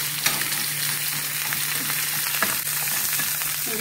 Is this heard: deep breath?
no